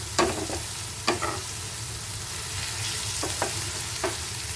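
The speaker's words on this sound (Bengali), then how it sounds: "পেঁয়াজের সাথে আদা রসুনের যে পেস্টটা আছে এটা ভাজা হতে থাকবে" Onion with ginger-garlic paste fries in a pan with a steady close sizzle, broken by a few short scraping strokes of a stirring spoon.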